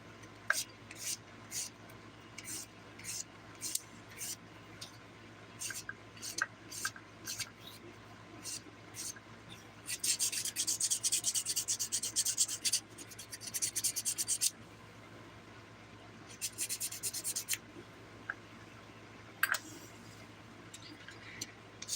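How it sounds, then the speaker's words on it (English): Electric nail file grinding down a chunky glitter dip powder nail, heard as a series of short close scratchy bursts in irregular rhythm, with longer sustained buzzing passes midway and near the end. "But just filed it off, and half of it now is on the nail, and the other half is off."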